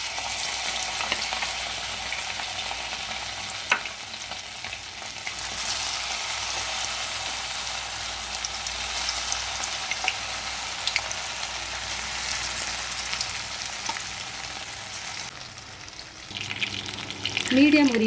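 Marinated mint chicken kebabs frying in hot oil, a loud, steady, close hiss and crackle that continues without a break and swells slightly at the very end.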